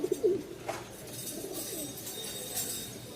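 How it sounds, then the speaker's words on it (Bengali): A male Rajshahi Giribaz pigeon coos softly in a newly moved-to loft, a brief low call at the start followed by quieter ambient noise. "নরের খুবই ডাক, নতুন জায়গায় নিয়ে আসছি যার কারণে একটু ডাকতেছে কম।"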